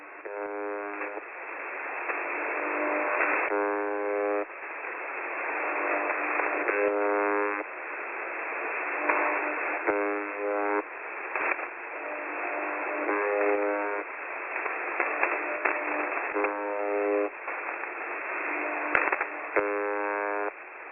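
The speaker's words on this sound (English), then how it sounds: "Last night the buzzer sounded slow and laboured with a digital or packet sound interspersed between the notably slower buzzing" Russian military radio buzzer signal received over shortwave, a slow, laboured repeating buzz with bursts of digital or packet-like data tones between the buzzes, steady and continuous through narrow-band radio noise.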